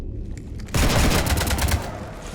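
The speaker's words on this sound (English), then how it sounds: "You want to stop shooting up my ship?" Gunfire shooting up a ship in Mass Effect 3, a sudden loud burst of rapid automatic shots after a quieter lead-in, rattling steadily before easing slightly.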